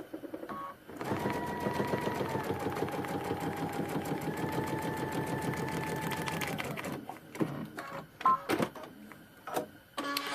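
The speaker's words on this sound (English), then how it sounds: "you're going to lower your presser foot and you're going to sew looking at this line right here" A sewing machine stitches a paper-pieced prairie point trivet, running steadily for about six seconds at a fast even rate, then stopping, followed by a few scattered clicks and handling taps.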